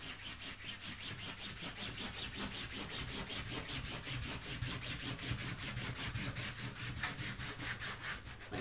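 A brush strokes stain onto vinyl fabric in a fast, steady back-and-forth rhythm of close, soft scrubbing rasps that carries on evenly, quiet and alone.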